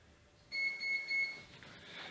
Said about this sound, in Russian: Вот вы можете слышать, пищат инкубаторы